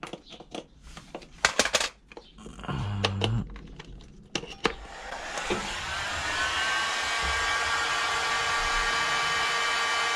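After a few handling clicks and knocks, a heat gun switches on and blows steadily with a loud, even whooshing drone while heating the engine casing of an AM6 moped engine being dismantled.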